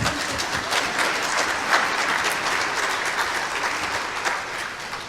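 An audience breaks into sustained applause, dense clapping that stays loud and even from start to finish with no voices over it.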